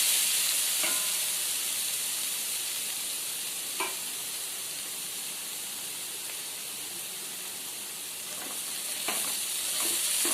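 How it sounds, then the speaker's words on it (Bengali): Spice masala for a paneer chana masala frying in a pan, a soft steady sizzle and hiss with occasional light stirring scrapes, close and fairly quiet. "এই মশলাটাও ভাজা হয়ে এসছে।"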